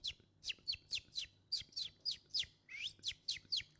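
A voice imitates bird chirping: a quick series of about fourteen high, sweeping whistled tweets, evenly spaced and fairly close.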